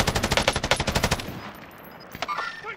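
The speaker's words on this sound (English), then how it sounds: "Oh, they're shooting at me." Rapid automatic gunfire from Call of Duty: Modern Warfare, a loud burst of close shots in quick rhythm for about a second and a half, then fading into quieter game ambience with faint distant pops.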